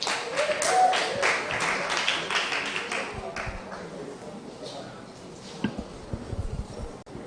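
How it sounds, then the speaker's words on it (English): An audience at an International Day of the Boy Child event claps for a speaker, a burst of applause that gradually thins out, with some voices murmuring underneath. "Clap for him."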